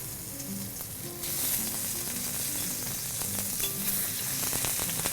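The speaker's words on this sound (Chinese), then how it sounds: "好，先煎牛肉。" Cut beef shank sears in a hot pan for Vietnamese pho, a dense sizzle that jumps louder about a second in and then holds steady over a faint low hum, with no talk.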